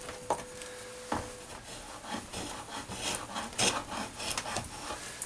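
Sandpaper rubs back and forth along a wooden axe handle, giving a steady run of dry, raspy scratching strokes close by with no voices.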